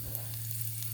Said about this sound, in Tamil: இதில் கொஞ்சம் சீரகம், கொஞ்சம் மிளகு, ஒரு 1/2 இன்ச் இஞ்சி, இது 3ஐயும் சேர்த்து நல்லா பொரிய விடுங்க.